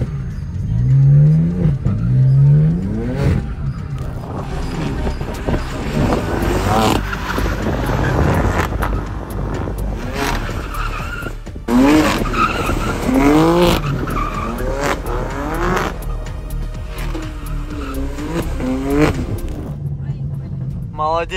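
Car accelerating and skidding with tires squealing in repeated sweeping bursts, loud and close, while a woman and an instructor talk over it throughout.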